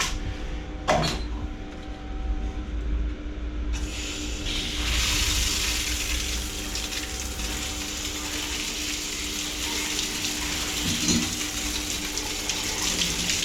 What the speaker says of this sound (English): let's just give this shower a go